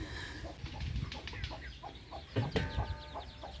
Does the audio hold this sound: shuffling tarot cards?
no